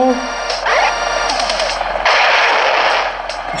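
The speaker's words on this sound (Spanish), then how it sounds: "disparo y gano" Rapid gunfire in the video game Bridge Strike on Switch, loud bursts of machine-gun shots in repeated volleys with short gaps, game effects layered over them.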